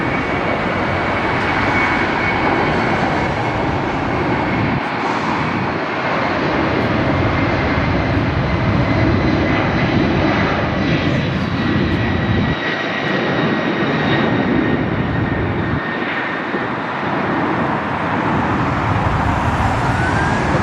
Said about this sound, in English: we got Delta 443 taking off, 187DN